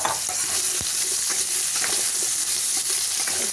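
Pumpkin pieces fry in a wok with radhuni seeds, a dried red chilli and a bay leaf, giving a dense, constant sizzle with faint stirring scrapes close by.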